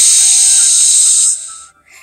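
A voice imitates the wind's whispered answer with a long, steady, breathy hiss that holds for over a second, then cuts off and fades into quiet.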